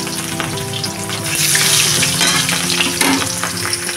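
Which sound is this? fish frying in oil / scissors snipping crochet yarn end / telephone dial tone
fish frying in oil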